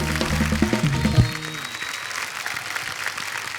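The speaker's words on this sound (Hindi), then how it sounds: "एक बार जोरदार तालियां हमारे सब मेहमानों के लिए।" Applause breaks out from a crowd, rising over the fading end of a musical sting and continuing steadily as a broad wash of clapping.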